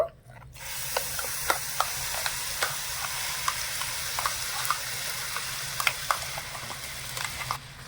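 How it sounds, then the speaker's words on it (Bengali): Carrot paste fries in ghee in a wok, a steady close sizzle broken by regular clicks and scrapes of a spatula stirring, with no voices. "এবারে গাজরটা ঘিয়ের সাথে একটু ভালো করে ভেজে নেবো"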